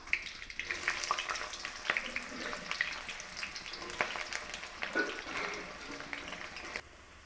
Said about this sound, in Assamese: তেলখিনি গৰম হোৱাত এতিয়া আমি তেজপাত 2 খিলা আৰু পিঁয়াজ আৰু জলকীয়াখিনিও দি দিম।